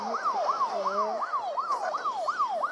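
A police car siren in a car-driving video game wails in repeated rising-and-falling sweeps, loud and steady throughout, with a faint engine rumble beneath and no talking.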